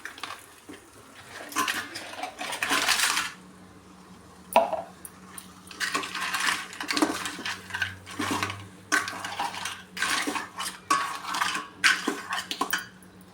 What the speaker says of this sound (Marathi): आता त्याच्यामध्ये मी या चिंबोऱ्या टाकून घेते सगळं